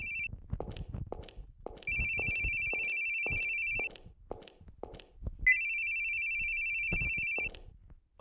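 A phone rings inside the horror video game The Boogie Man: two long, steady electronic rings, each lasting about two seconds, with faint footsteps and clicks in between.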